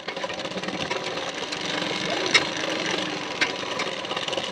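Sewing machine stitching a hook strip onto a boat-neck blouse, a steady, fast mechanical whirr close by with a couple of brief clunks and no talk.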